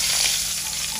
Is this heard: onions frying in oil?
yes